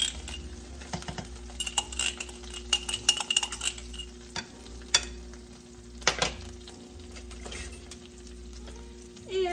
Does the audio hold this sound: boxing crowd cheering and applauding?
no